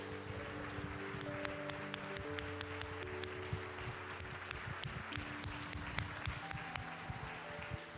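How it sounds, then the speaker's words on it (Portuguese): A church congregation applauds in praise, a faint, steady wash of clapping sounding distant, over sustained instrumental music with held tones. "Quem crê nisso, aplauda o Senhor Jesus."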